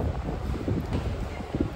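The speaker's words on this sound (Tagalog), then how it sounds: "ang maingay na naririnig ninyo naka-background mga whitey friends ay ingay ng hangin" Strong wind buffeting a microphone while walking around a mall at Discovery Port, a continuous low rumbling roar with uneven gusty thumps, close and loud, with no talk.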